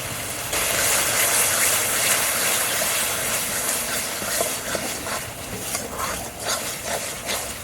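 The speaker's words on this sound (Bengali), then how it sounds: "মশলাটা ভালো করে কষে নেব" Masala fries in a pan with salt and turmeric for an egg and raw jackfruit curry, a loud, dense sizzling hiss that runs throughout, with scraping clatters toward the end.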